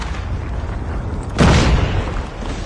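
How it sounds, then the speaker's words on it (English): A predator missile explodes in Call of Duty Mobile: a loud, booming blast hits about halfway through and rumbles briefly before fading back into the steady game noise. "Hostile predator missile inbound."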